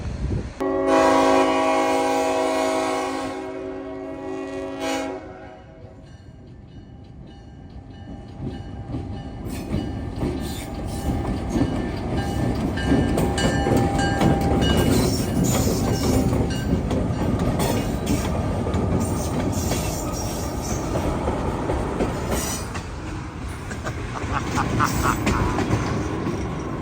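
A train rumbles past on the tracks with a loud horn blast at the start, then steady rolling clatter and rumble continuing throughout.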